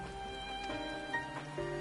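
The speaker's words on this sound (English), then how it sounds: "And it's raining." Rain falls in the Final Fantasy XIV video game as a soft, continuous patter under quiet tonal game music, steady and low in level with a few brighter chimes drifting through.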